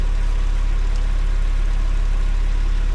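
A Porsche 911 996 flat-six engine, suspected of a faulty air-oil separator, idles at minimal revs: a loud, steady, low rhythmic throb that continues evenly throughout.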